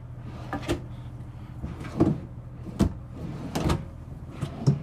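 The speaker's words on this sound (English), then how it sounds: "They do put soft close on all the drawers, so it helps from slamming and also helps make sure it gets that tight seal." Soft-close drawers in a 2024 Renegade Valencia 38RB Super C motorhome slide and shut several times, each ending in a muted thud over a low steady hum, close and fairly quiet.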